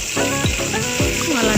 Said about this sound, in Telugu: పచ్చిమిర్చి ఆనియన్ కొంచెం లైట్గా వేయించాలి.